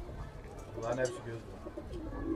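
Low, soft cooing of purebred pigeons close by in Gaziantep, Turkey, mixed with muffled voices and a bit of background rustle.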